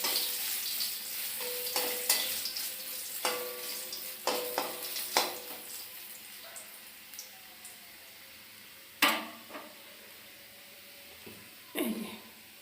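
Garlic hits hot oil for a sour lentil dal, giving a quiet ongoing sizzle broken by sharp spattering pops and clinks of a spoon against the pot, several distinct bursts spread across the stretch, close and fairly soft.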